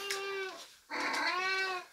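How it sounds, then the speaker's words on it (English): A house cat gives two clear meows, near and fairly loud, the first short and the second longer and rising, with a brief pause between and no talk. "Be quiet, cat."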